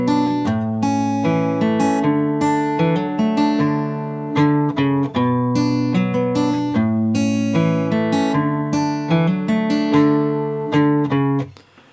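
A guitar plays a clean, bright melody line, plucked notes following one another at a steady pace, close and clear with no talking.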